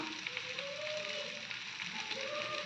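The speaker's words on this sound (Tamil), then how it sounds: "குழம்பு நல்லா கொதி வந்துருச்சு" A pot of tamarind curry bubbles at a rolling boil, giving a dense, even hiss and crackle that holds steady throughout at moderate loudness.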